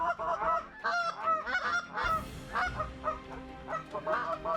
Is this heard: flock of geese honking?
yes